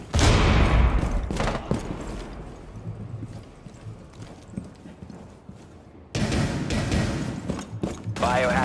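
In Rainbow Six Siege, a frag grenade goes off with a heavy blast, followed by scattered gunfire and thuds, then a second loud burst of shooting near the end, with game voices in between.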